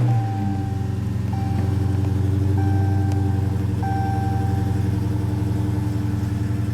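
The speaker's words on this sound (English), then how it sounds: "So it's got a nice exhaust rumble" A supercharged 2016 Dodge Charger SRT Hellcat's 707-horsepower engine idles with a deep, steady exhaust rumble close by, a faint high whine riding over the low drone.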